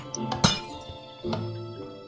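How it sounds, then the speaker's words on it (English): Breaking glass in the Minecraft game, a bright clinking crash that hits sharply once and is followed by a second, duller shattering clink, with quiet ringing between them. "So that's what the breaking glass sound is supposed to be."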